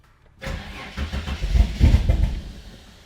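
Turbocharged Ford Fairlane engine with a Haltech ECU firing up for the first time, running rich with timing slightly off: after a brief silence it catches at once and settles into a loud, lumpy, uneven idle close by.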